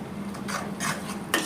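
A spice paste with green chillies is stirred with a few scraping, rubbing strokes against the pot, close and moderately loud, one stroke ending with a sharper scrape.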